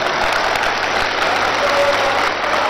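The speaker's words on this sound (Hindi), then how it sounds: "जरा तालियां, अरे तालियां तो इतनी जोर से बजाओ।" A large crowd at a yoga camp applauds, a dense, even roar of many hands clapping with a low steady hum underneath and no speech.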